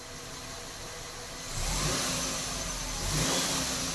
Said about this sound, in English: Can you rev it up? Just rev it and hold it a little bit.